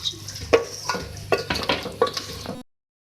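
Beef and capsicum stirred in a hot pan, a spatula scraping and clanking against the metal in several distinct strokes over a steady close sizzle.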